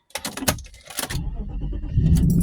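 A couple of clicks and rattles, then a car engine cranks and catches into a low, steady idle close by.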